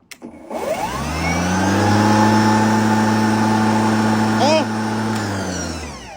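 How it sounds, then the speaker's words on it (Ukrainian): A cordless battery lawn mower's electric motor starts with a click, spins up to a steady humming whine, holds loud and close for several seconds, then winds down. "Акумуляторна газонокосілка."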